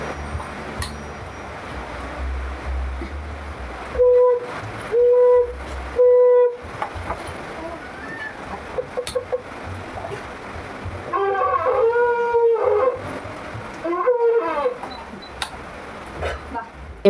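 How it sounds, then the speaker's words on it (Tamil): A conch shell is blown during a Pongal celebration: three short, loud, even blasts, then several longer wavering blasts, with people talking in between. "ஸோ சங்கூதிட்டு வச்சாச்சு."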